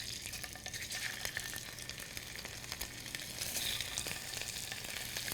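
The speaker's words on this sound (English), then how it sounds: "set this into a hot frying pan with a little bit of oil" Italian sausage frying in a hot pan with a little oil gives a steady, close, dense sizzle that crackles without a break and never fades.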